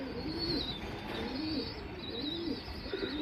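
Pigeons of an old lineage for sale cooing softly in repeated low, rolling phrases, fairly faint, with light chirps above and no talk.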